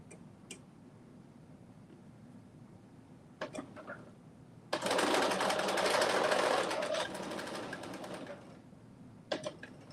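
A sewing machine stitches fabric in a loud, rapid burst of several seconds that tapers off. A few isolated clicks and taps are heard before and after.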